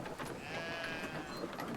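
A sheep bleats in the Brothers: A Tale of Two Sons video game, a wavering cry over a continuous busy bed of game ambience and music, no speech.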